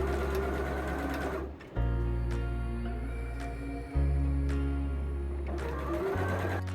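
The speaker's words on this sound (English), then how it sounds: "In order to do this, I stitch down the center seam," A sewing machine stitches the center seam of a double gauze shirt, running in a steady close whir that briefly pauses and restarts twice, with no talking.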